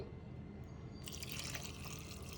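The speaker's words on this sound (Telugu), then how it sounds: "ఇందులో కొన్ని వాటర్ పోసుకోవాలి" Water is poured into a pressure cooker holding green chillies, tomatoes and a little tamarind for tomato rasam, a soft trickle that swells into a steady splashing pour partway through, close and alone.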